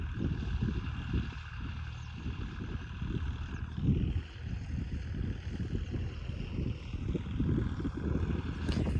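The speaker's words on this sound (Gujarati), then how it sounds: "ખાતર વાવે એ ટ્રેક્ટર." A tractor sowing fertilizer across a farm field gives off a steady low engine rumble with wind noise, moderately distant and continuous with no talking.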